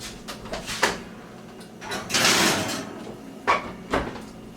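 An oven door at 350 degrees opening and closing as a rhubarb crisp goes back in, with nearby rattling thuds, a sliding scrape and a couple of knocking shuts.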